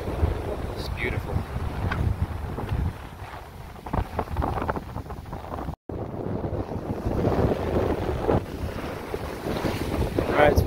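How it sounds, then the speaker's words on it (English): Strong, gusty wind roars across the microphone on a beach, with rumbling surf and waves of an incoming tide underneath, steady throughout apart from one brief dropout. "Alright, it's windy, tide's coming in"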